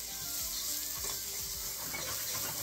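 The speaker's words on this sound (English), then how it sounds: "we're gonna go ahead and add the garlic at this point. Just gonna stir that up." Garlic sizzles in a hot pan while a utensil stirs it, a loud, close, continuous frying hiss with several quick scraping strokes near the start.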